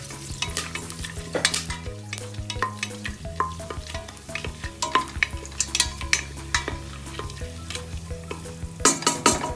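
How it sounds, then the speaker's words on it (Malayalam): Cinnamon, cloves and cardamom stirred in hot fat in a pressure cooker for chicken biryani, heard as a busy close sizzle with frequent metallic scrapes and clinks of a spoon, under a low steady hum. "പട്ട ഗ്രാമ്പു ഏലക്കായ്ക്കില്ലേ അത് നമ്മളതിലിട്ടിട്ട് ജസ്റ്റ് ഒന്ന് ഇങ്ങനെ ഇളക്കി"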